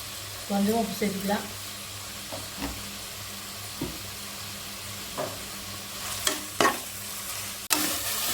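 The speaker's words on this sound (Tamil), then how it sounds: "பார்த்தீங்கன்னா இந்த அளவு தக்காளி வதங்கிக்கணும்" Tomatoes sauté in a pan for vegetable biryani while a utensil stirs and scrapes, giving a close, quiet sizzle broken by irregular scraping knocks and a sharp clatter near the end.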